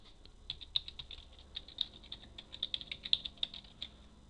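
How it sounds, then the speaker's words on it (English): Quiet, irregular tapping of keys on a computer keyboard while entering a domain name, a scatter of soft clicks over several seconds and nothing else heard. "we need to type in the domain name"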